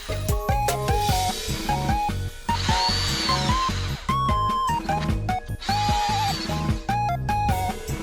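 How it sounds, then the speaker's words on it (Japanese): A power drill bores holes into a cedar scaffold board for embedded nuts, its motor whining in repeated short bursts, rising and falling as the bit starts, bites into the wood and stops, loud and close. "折り目ナットを埋め込む穴を開けます。"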